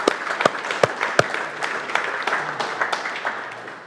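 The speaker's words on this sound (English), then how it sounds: "Give yourself a round of applause." A team at a company all-hands update claps for itself, a modest round of applause with a few sharp, distinct claps standing out early before thinning into a softer, fading patter.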